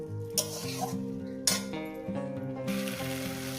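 Masala for a fish curry with tomato is stirred and sautéed in a pan. A steady sizzle runs under a tonal hum, broken by a few scraping strokes of the spatula against the pan. No one speaks.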